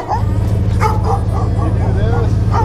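Dogs barking and yipping in quick bursts over a loud, steady engine rumble, with people talking nearby, at a car-build garage.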